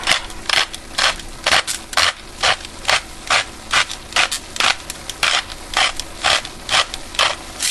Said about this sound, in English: I'm going to give it some turns of black pepper